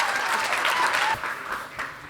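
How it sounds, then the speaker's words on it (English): Audience at a Vaisakhi event at Wembley Stadium applauds a panel's work, a short burst of dense clapping that eases off slightly toward the end. "Please join me in giving Gurdawar and Preeti a huge round of applause for their work."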